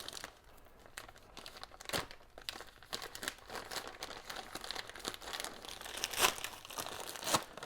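A package stuffed with material is torn open by hand, giving close, continuous crinkling and crumpling with sharp tearing rips throughout and no talking.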